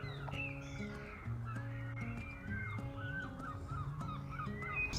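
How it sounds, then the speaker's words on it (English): Seagulls call repeatedly during an outdoor family barbecue, their faint, harsh cries overlapping one another throughout against a quiet background. "Yes, thank you, seagulls."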